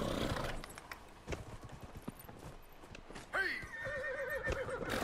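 Inside the Dragon Age: Inquisition video game, a horse whinnies loudly near the end while hooves clop steadily throughout, set against ambient game sound.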